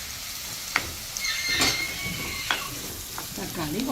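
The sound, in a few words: tomatoes sizzling as they are sautéed in a pan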